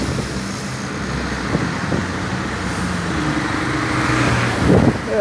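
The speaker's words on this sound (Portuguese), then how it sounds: "tem um caminhão vindo" A truck approaching and passing on a road, heard from a motorcycle, with steady traffic rumble and wind that swells toward the end as the heavy vehicle draws near.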